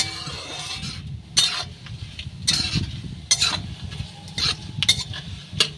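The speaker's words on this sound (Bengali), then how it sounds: "আর এই গরম তেলের মধ্যে দিয়ে দেব সামান্য পরিমাণে মৌরি।" Fennel seeds are stirred into hot oil in a pan while making a jaggery mango pickle, giving a soft continuous sizzle punctuated by sharp metallic clinks and scrapes of the spoon against the pan, close by and unvoiced.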